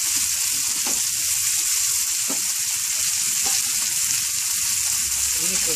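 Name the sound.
chopped coriander sizzling as it is fried in oil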